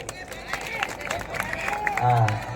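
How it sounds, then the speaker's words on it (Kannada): Crowd applause and clapping for a smiling young performer at an outdoor music stage event, a continuous dense patter of many hands with background hubbub, growing slightly louder toward the end. "ಈ ನಗುಮುಖದ ಕಲಾವಿದ ಬರಲಿ ಒಂದು ಪ್ರೀತಿಯ ಜೋರಾದ ಚಪ್ಪಾಳೆ."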